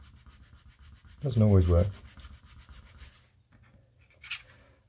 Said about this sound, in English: sometimes you can use this to gently rub away any creases